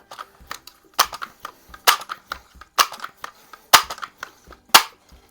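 Barra 1866 pellet air rifle firing with a pellet port improvement, heard as a series of sharp close cracks and snaps spaced about a second apart, with lighter mechanical clicks of handling and loading in between.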